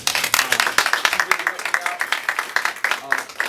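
A crowd at a fundraiser gives a round of applause for Sharon, dense irregular clapping filling the space throughout, with voices mixed in underneath.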